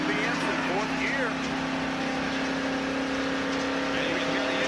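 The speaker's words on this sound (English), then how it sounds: "And you can hear the engine running." A damaged Valvoline Ford NASCAR race car runs with a steady, droning engine note that stays near constant and strains without climbing, while a commentator talks over it.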